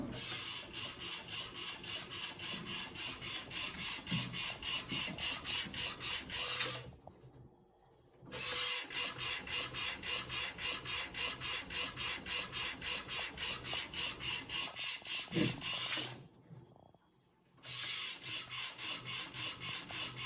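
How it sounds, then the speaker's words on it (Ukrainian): A textile printer runs with a fast, steady rhythmic rasping as its head sweeps back and forth, pausing briefly twice before resuming the same pattern. "Починається процес друку."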